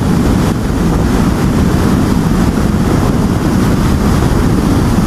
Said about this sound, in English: Again, there's a heavy wind.